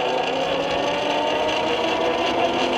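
Steady electric whine and wind roar of a MEGAWHEELS D2 electric dirt bike ridden in mode 1, a continuous, fairly loud drone with no breaks and no talk.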